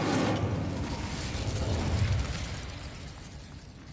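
Bombarda blasting spell from Hogwarts Legacy, a loud explosive burst with rumbling debris right at the start that fades out over a few seconds.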